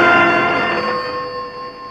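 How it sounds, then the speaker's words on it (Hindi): A single bright bell-like ring decays slowly into a lingering resonant tone, clear and alone with no voices. "जरा टेलीफोन देखो।"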